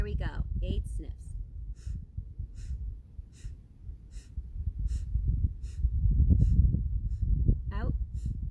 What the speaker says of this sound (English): Here we go. 8 sniffs.